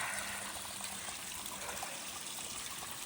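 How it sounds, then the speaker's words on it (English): Small trickling waterfall along the Appalachian Trail in summer heat, a steady, even rush of falling water heard close and alone with no voices. "It's gonna be your waterfall for the day."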